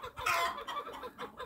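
A hen clucks in a few short, close, irregular bursts around a rabbit enclosure, with a louder squawk near the start followed by softer clucks.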